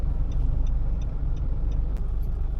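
Street traffic at Mapua in Manila, a steady dense rumble of cars and engines close by, with a faint hiss and a brief sharp burst partway through, no talking.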